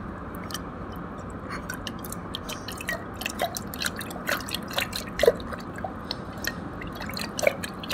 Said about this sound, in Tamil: அரிசி எவ்வளோ எடுக்கிறோமோ அதுக்கு டபுள் மடங்கு தண்ணி எடுத்து ஊற்றிக்கணும்.